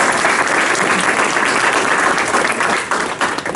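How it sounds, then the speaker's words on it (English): An audience claps in a full, sustained round of applause, close and loud, the clapping continuous before easing slightly at the end. "Let's give Mark a round of applause"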